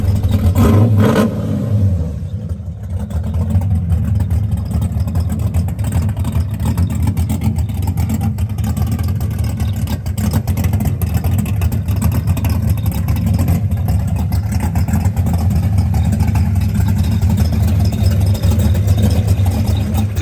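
A 1971 Chevrolet Nova engine runs steadily with a deep, constant low rumble, close by and loud, with a brief rev near the start.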